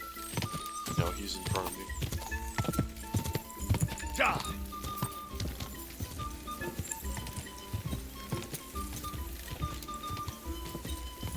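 Hoofbeats of a galloping horse in Kingdom Come Deliverance 2 clop steadily throughout, with an agitated neigh breaking through partway, all under continuous talk.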